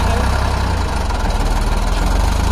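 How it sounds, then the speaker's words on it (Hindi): A Ford 3600 tractor engine pulls a plow at depth, a loud, steady, close running note with a continuous low throb and no speech. "बहुत जोर का ट्रैक्टर है"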